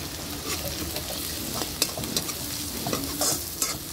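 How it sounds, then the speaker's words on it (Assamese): Ginger and garlic frying in a pan for a chicken and taro curry, a close crackling sizzle broken by frequent spatula scrapes and knocks against the pan, continuous and without talk. "এতিয়া আদা নহৰুখিনি দিছোঁ"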